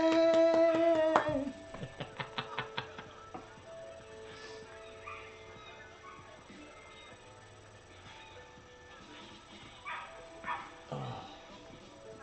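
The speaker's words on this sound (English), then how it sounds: "Somebody please stop that dog from barking." A dog barks several times in quick succession, close and sharp, at the start of an outdoor garden walk; quieter yips and rustling follow, with a brief voice.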